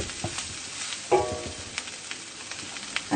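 Rice, onion and red chili frying in a pan for spicy tuna fried rice, a steady close sizzle with soft stirring scrapes and a few sharper clatters, with no talking.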